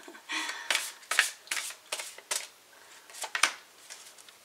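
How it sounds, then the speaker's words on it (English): Tarot cards being shuffled by hand give a run of quick, crisp riffling bursts, close and clear, repeating in an uneven rhythm with short pauses between shuffles, and no one speaking. "I've got to wait till the cards pop out"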